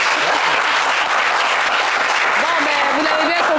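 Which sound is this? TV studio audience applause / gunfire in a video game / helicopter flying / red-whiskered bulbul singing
TV studio audience applause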